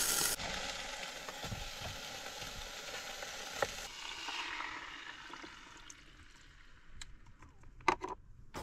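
Whole pork chops sizzle in a pan on a camp stove during a car-camping night in a leafy London suburb: a steady, close frying hiss that thins out toward the end, with a few light clinks.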